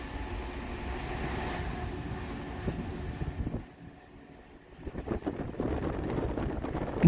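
A MEMU train on the Santragachi to Jhargram line rumbles along the rails, a steady broadband roar with wind buffeting that dips into a quieter stretch around the middle before the clatter and rush swell back up.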